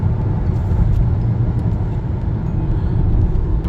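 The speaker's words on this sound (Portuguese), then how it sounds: "a gente vai começar a ter uma subidinha leve. Olha lá, o câmbio já começou a fazer essas movimentações" A 2021 Honda HR-V EX with an automatic transmission climbs a gentle uphill grade on the road, giving a steady, loud low engine and road rumble from inside the cabin with no distinct break for gear changes.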